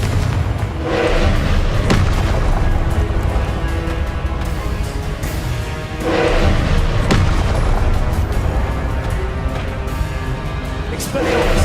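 Confringo blasting-spell explosions in Hogwarts Legacy, a loud sustained roar with repeated booming bursts at a steady pace, up close and dense throughout.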